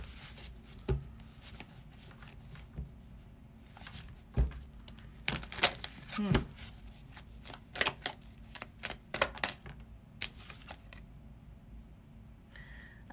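Tarot cards are shuffled in short bursts of crisp riffling and slapping clicks, irregular and close, with quiet pauses between.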